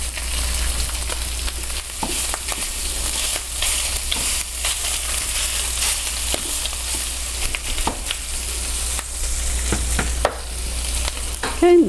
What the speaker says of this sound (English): So the next step is we're going to cook the sausage